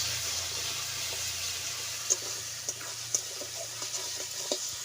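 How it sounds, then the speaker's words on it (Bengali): Spice paste and turmeric being stir-fried in oil in a pan, a faint steady sizzle under a few soft spoon scrapes and light clinks against the pan. "এবার আমি ভালো করে কষিয়ে নেব"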